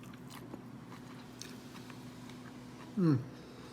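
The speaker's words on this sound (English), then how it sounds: "I'm eating health food" Someone chews a healthy shrimp dish with spinach, peppers, mozzarella cheese and seasoning, making soft, faint mouth noises and then one clear, louder bite near the end.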